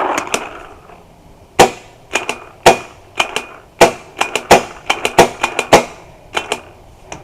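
Paintball marker shots from a CCI Phantom on an outdoor field, a string of sharp cracking pops, some single, some in quick bursts, fairly close and loud, with nobody talking over them.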